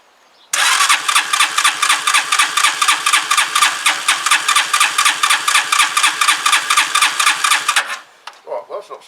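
A Zontes Tiger 125 motorcycle engine cranks loudly for about seven seconds in a fast, even rhythm of starter pulses without catching, then falls silent apart from a few faint clicks.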